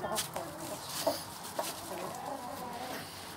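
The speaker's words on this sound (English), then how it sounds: "there's a chicken, that's chicken, that's a chicken" Chickens cluck in short, scattered bursts against a soft background hum, fairly faint and close by.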